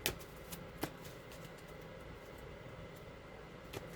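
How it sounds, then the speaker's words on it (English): A deck of tarot cards is shuffled close by, with soft riffling and a few sharp snaps as cards slap together over a quiet background hiss. "Okay, get a good shuffle."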